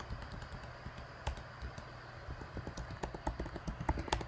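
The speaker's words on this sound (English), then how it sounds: "My N button on my keyboard sticks. And I like to type fast." Rapid typing on a computer keyboard with a sticking N key, a dense run of small plastic key clicks growing busier and louder toward the end, over a steady low room hum.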